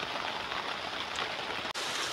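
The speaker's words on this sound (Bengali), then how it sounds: "তো বন্ধুরা আজকে তো প্রবল বৃষ্টি, তেমন মাছও পাইনি।" Heavy rain pours beside a river during a storm, a dense, steady hiss of drops on surfaces filling the whole stretch, with one brief dropout near the end.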